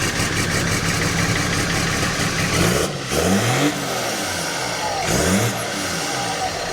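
A Ford truck fitted with a BMW engine idles steadily, then revs twice in sharp rising surges; a person speaks briefly over the engine.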